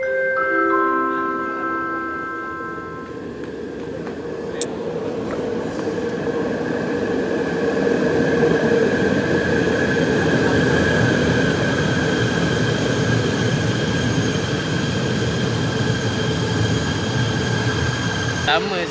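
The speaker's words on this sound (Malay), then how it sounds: "Lama saya tak naik ETS ni." An ETS electric train in Malaysia rolls along steadily, with a continuous rumble of wheels on rail, sustained tonal whines and squeals, and a loud, constant interior ride noise throughout.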